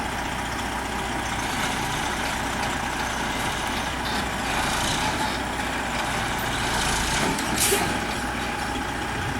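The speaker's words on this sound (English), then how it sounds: "Sterling truck is absolutely a diesel." A Sterling diesel truck at a septic system replacement site runs with a steady heavy engine rumble, and a brief sharp hiss of air brakes cuts in near the end.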